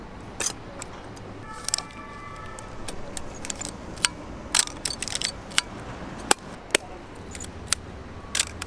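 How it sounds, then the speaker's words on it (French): A Pentax Spotmatic film camera handled while loading, winding and releasing, a series of sharp metallic clicks, ratchets and snaps spread irregularly over a quiet background. "Ouvrir le dos, charger la pellicule, armer, déclencher, c'est assez standard."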